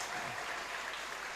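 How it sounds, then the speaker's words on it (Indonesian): Brief burst of steady audience clapping at a 2021 school graduation ceremony, even and continuous across its short span with no voices over it. "Tepuk tangan untuk Ananta."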